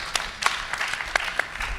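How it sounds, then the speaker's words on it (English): Scattered clapping from a summit audience applauding a panel on vaping technology, a few sharp claps standing out over a thin, steady patter, moderately distant and short. "Round of applause for our esteemed panel"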